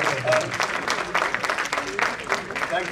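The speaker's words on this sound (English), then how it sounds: "Big round of applause for you." Applause from an audience after a lecture on the 1857 Kanpur massacres at a literature festival, a short burst of clapping that stays moderately loud throughout.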